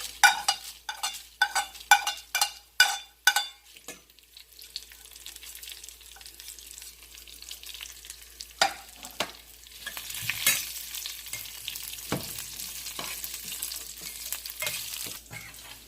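Dried red chillies dropped into oil with garlic and cumin for coconut chutney: a run of sharp knocks comes first, then the sizzle builds into a loud, crackling fry close by.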